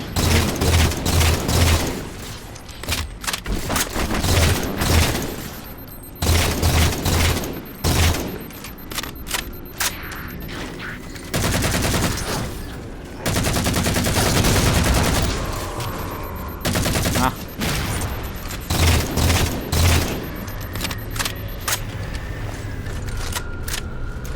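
Rapid bursts of automatic gunfire and heavy blasts from Halo 4 combat, loud and dense, with repeated volleys and explosions continuing throughout and only brief lulls between exchanges.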